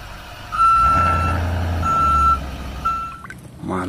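Toy tanker truck sounding its reversing alarm, three evenly spaced electronic beeps over a low engine-like rumble, close and loud, followed by a short noise at the end.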